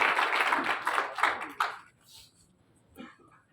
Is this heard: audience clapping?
yes